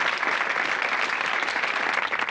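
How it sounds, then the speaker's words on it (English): A studio audience at a 1984 British television quiz show applauds two contestants, a dense, loud and steady roar of many hands clapping with no talking over it. "a quick round of applause for Robin and Stephen"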